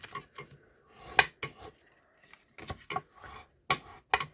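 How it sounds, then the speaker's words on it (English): A bone folder burnishes a piece of card in a paper craft project, making a series of short, dry rubbing and scraping strokes up close at an uneven rhythm, with no talking. "I'm then going to use this bone to burnish it a bit"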